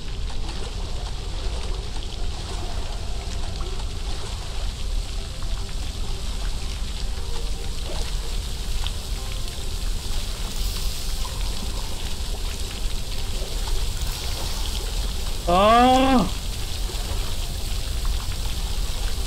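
Steady wash of flowing water from the I Am Fish video game, a continuous broadband stream filling the whole stretch at even loudness, with a brief rising chirpy game effect near the end.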